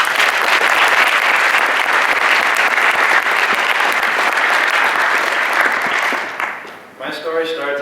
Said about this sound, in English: So please give a round of applause for Caleb.